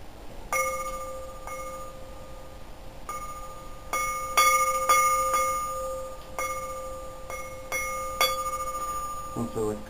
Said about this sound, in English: Sounds like a church bell.